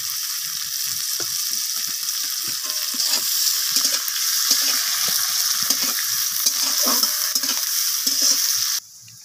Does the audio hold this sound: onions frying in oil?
yes